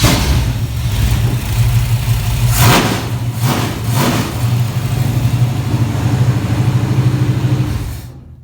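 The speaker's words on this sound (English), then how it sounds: "we'll start it up one last time for just to end the video" The engine of a 1957 Chevy gasser with a freshly set carburetor rumbles steadily nearby, loud and continuous, with a couple of sharp revs in the middle before it cuts off abruptly at the end.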